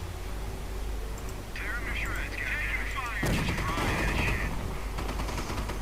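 Gunfire in the Company of Heroes video game, rapid bursts of shots with a heavy weapon opening up partway through, under talk and mixed with battle effects.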